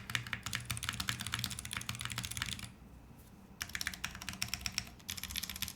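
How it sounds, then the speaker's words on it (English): A tactile mechanical computer keyboard, used without a desk pad, clatters under fast, close typing in dense bursts, pausing for about a second midway before the rapid keystrokes resume. "Definitely sounds like a keyboard made before sound was a hot thing."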